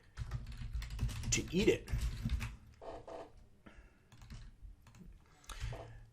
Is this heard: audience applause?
no